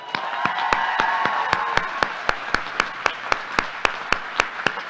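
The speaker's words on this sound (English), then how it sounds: "please join me in thanking and applauding them" Audience at a law school commencement ceremony applauds, a dense wash of clapping that thins into sparse, evenly spaced individual claps over about five seconds.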